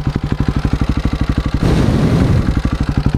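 A KTM motorcycle engine climbing a hill, close and loud, its steady pulsing thump rising into a harder throttle surge midway before settling back into the rhythmic beat.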